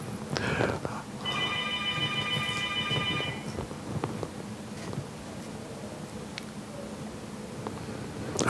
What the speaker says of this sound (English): wait for the phone to stop ringing